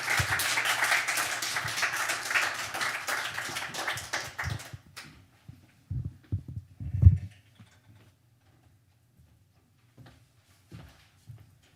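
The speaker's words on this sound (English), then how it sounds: "If you could give a round of applause for Rayna" Audience applause at an evening poetry reading, loud and steady clapping that fades out after about four seconds, followed by quiet room noise with scattered footsteps and faint bumps.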